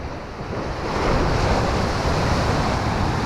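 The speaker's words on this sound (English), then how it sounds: "I did say the waves were getting less" Sea waves roll onto the Holderness coast below a cliff at Hilston, a loud, full roar of surf that rises after the first second and stays steady, with wind buffeting the microphone and no talking.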